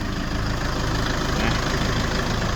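2013 Toyota Commuter van with a 2.5-litre 2KD diesel engine idles close by, giving a steady, dense rumble that stays even throughout, with no one talking.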